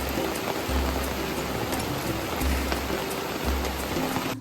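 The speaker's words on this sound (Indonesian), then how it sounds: "Nah, benar saja, hujannya sangat deras sekali." Heavy rain pours onto a forest shelter, a dense, loud, continuous hiss of drops with periodic low thuds and patters, no speech.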